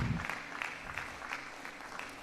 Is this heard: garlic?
no